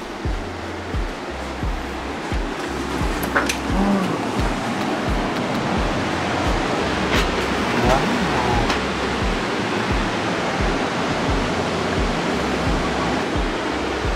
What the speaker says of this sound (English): just listening to the ocean